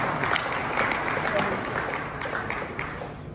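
Audience at a mining event convened by a king in Ghana gives scattered, fairly loud applause with distinct individual claps standing out, voices murmuring beneath as the clapping gradually tapers off.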